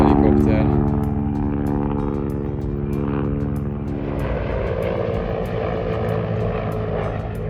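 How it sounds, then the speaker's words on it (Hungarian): A Russian helicopter arrives at the ruined Temple of Bel in Palmyra, Syria, its loud, steady rotor and engine drone filling the air and rising in dense layered roar throughout, with no talk over it. "És érkezik egy orosz helikopter."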